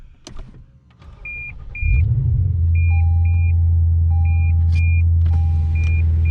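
A Lexus RC F engine starts, then rumbles deep and steady up close as the car moves off. Repeated electronic chimes beep over the engine.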